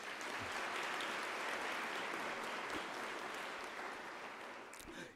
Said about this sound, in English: I would like us to give them a round of applause.